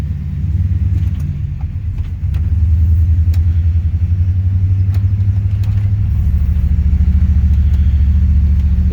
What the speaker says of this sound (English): Idling good, running good.